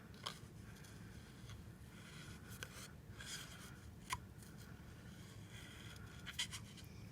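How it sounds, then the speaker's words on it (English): Scissors fussy-cutting a row of paper scallops, the blades never fully closed while the paper is shifted back and forth; faint, steady snipping and rubbing with no talk. "I don't ever get the scissors completely closed"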